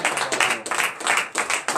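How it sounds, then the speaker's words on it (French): A church congregation at a Beninese morning prayer service applauds for Jesus, rhythmic clapping in repeated bursts from many hands, loud and close, with no voices. "Donne l'acclamation à Jésus."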